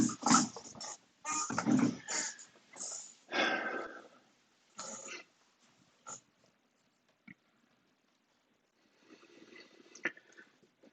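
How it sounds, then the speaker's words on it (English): Dog making snuffling, grunting breathy sounds nearby in a room, several bursts over the first five seconds, then sparse small noises and a faint rustle near the end, no talk. "a dog in here."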